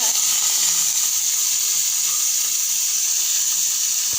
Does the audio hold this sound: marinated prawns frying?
yes